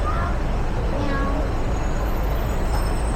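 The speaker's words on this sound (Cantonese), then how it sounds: "佢有隻貓喺度嘅" A short cat meow from a shop cat in a pharmacy in Mong Kok, Hong Kong rises near the start, faint against loud, steady street traffic rumble and some talking.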